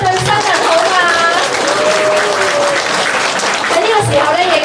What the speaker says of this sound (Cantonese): 俾啲掌聲我哋一對新人好嘛